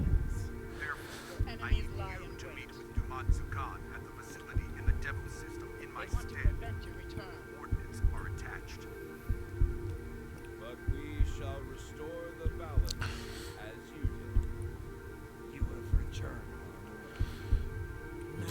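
Within the Star Trek Online video game, a steady, pounding heartbeat throbs in a regular rhythm of soft thumps, repeating about every second and a half under a low ambient hum, with someone talking over it throughout.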